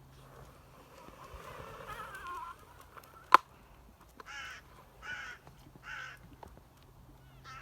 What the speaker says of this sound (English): That crow's gone for it, I don't know.